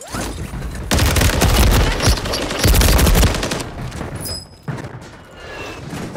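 Gunfire in the video game Call of Duty: dense, loud bursts of rapid automatic shots in two long volleys with a brief pause between, followed by quieter scattered game sounds.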